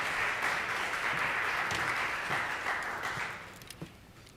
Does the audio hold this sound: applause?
yes